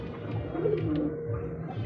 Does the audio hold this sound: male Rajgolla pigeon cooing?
yes